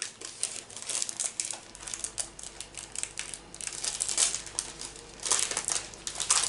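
Plastic wrapping is peeled off a double-sided propaganda poster from a video-game collector's edition, a close, continuous crinkling and crackling that rises and falls with no talk.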